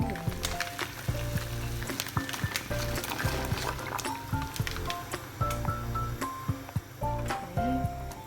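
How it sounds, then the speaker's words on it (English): Water boiling in a pot with ravioli added, bubbling and squishy liquid pops in an irregular stream, close and moderately loud, with kitchen clatter mixed in. "Okay, add to boiling water. It's boiling nicely."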